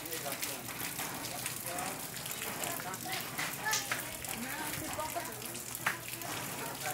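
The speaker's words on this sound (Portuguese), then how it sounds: "Deu uma chuvadinha, já teve mais grossa já" Light rain falling outdoors in northeastern Brazil, a soft continuous patter with scattered drip ticks, fairly quiet and steady throughout with no talk over it.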